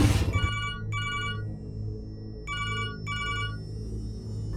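A telephone rings in repeated bursts of a bright electronic trill, with gaps between rings, over a steady low hum.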